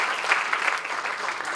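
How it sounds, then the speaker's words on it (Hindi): An audience at a poetry gathering breaks into a short burst of clapping that swells briefly and then thins out, heard from a middle distance. "जोरदार तालियां बजाइए।"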